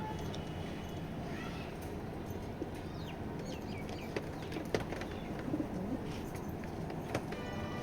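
Racing pigeons in a loft give soft, low coos now and then against a busy background of rustling and faint clucks, heard at moderate distance with no clear talk.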